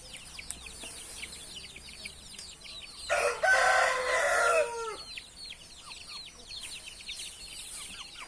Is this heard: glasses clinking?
no